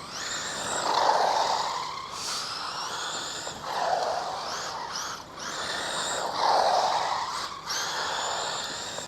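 A Traxxas Slash Mudboss RC car running laps on a track, its electric motor whining up and down in repeated surges as it accelerates, passes and backs off, at a moderate distance.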